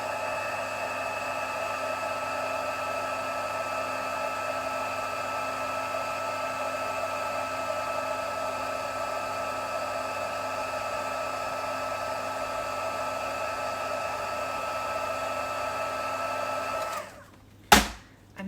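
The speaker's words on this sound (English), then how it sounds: "I love heat embossing, can you tell?" A heat embossing tool blows hot air in a steady, even whir that holds for most of the time, then cuts off, followed by a brief knock and quiet.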